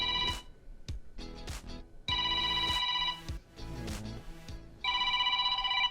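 A telephone rings in repeated loud electronic bursts with short gaps between them, alone with no talking, during a school news broadcast segment.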